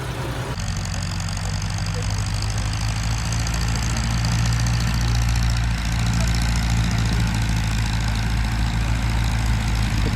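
A New Holland 3630 tractor engine idles loud and close, a constant deep diesel rumble with a steady knocking pulse that starts abruptly and runs unchanged for ten seconds.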